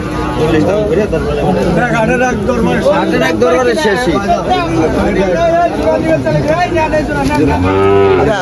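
Cattle, including bulls and calves, moo repeatedly amid a busy crowd, with many voices chattering and calling in the background of a cattle market in Faridpur, Bangladesh.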